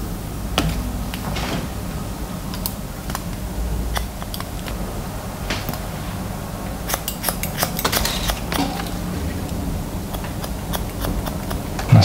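Scissors cutting hair during a medium-length modern mullet haircut, giving a steady run of close, crisp snips and clipped cuts throughout with no talking.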